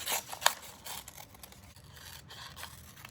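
Scissors snip through paper shapes for a mola-inspired craft: several quick, close crisp cuts and rustles, the sharpest near the start, then softer scraping snips at a low level.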